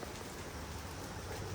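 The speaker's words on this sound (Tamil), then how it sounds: "நல்ல மழை பெஞ்சிட்ருக்கு." Steady rain falls outside a new house in Iyappanthangal, a dense and even hiss of drops that fills the whole moment at moderate volume, with no voices.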